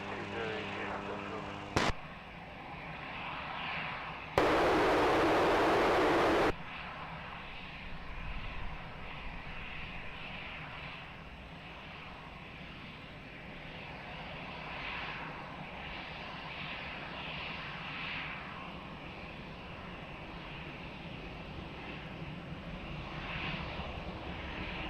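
An EasyJet airliner takes off from runway 20 at Lisbon Airport, a steady broad engine roar sustained throughout, with a brief loud burst early on and a faint voice over the radio near the start.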